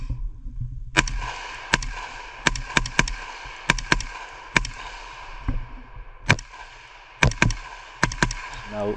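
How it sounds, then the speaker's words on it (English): Rifle shots fired at steel and falling-plate targets in a shooting competition, about a dozen sharp, loud cracks spaced irregularly, each followed by a short ringing tail, with no talk. "Shooting some more targets."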